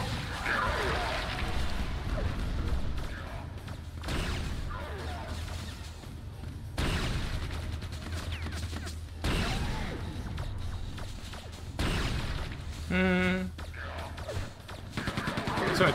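Quake II weapons firing in bursts, loud repeated gunshots and crashes separated by brief gaps, with someone talking over the action.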